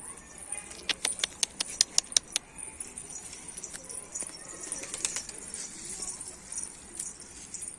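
Birds flap their wings close by in a rapid run of sharp flutters, followed by scattered softer flaps and light rustling.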